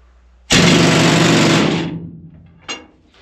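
A pneumatic drifter rock drill in a mine roars into a loud, steady rattling hammer for over a second, then winds down, followed by a brief hiss of air.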